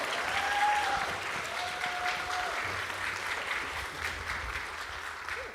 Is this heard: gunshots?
no